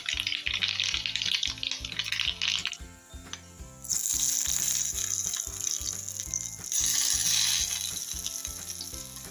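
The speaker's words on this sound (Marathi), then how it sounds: "आमच्याकडे लहान मुलं याला चुर्र फोडणी म्हणतात" Hot oil crackles and sizzles loudly as chillies and spices temper for kadhi, bursts of spattering rising and easing over a steady rhythmic mechanical clicking in the background.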